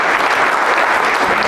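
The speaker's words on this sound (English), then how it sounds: "Clap for all these educators among your midst." Stand-up comedy audience clapping for educators, a dense, loud and steady burst of applause filling the room, with no voices over it.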